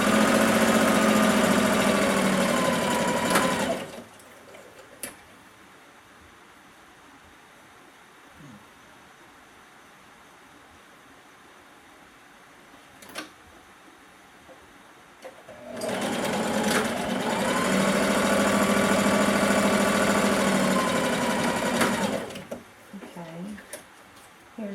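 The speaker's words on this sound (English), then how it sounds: "yes, I do sew right over my pins" A sewing machine stitches a bodice straight over the pins, running in two long, steady whirring bursts with a quiet pause between them, close and fairly loud.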